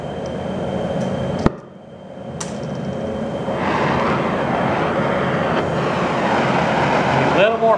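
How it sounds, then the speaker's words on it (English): Oxy cutting torch with a small tip working on 1-inch steel plate, giving a loud continuous roaring hiss and one sharp pop at ignition, with a flutter of burning near the end. "I'm going to try to show cutting heavy plate with a small tip"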